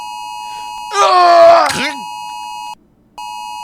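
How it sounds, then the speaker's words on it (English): A steady electronic phone emergency alert siren in a video game drones loudly, briefly overlapped by a startled shriek and groan, then cuts out and resumes. "I jolt awake by the sound of a siren going off on my phone."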